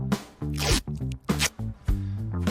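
Adhesive tape pulled off the roll in short loud rips, about four or five bursts of tearing, close and alone.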